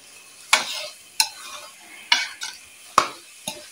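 Cooked turnip pieces are stirred into masala in a cooking pot, with five or six sharp scraping clanks of the spoon against the pot at irregular intervals over a soft sizzle.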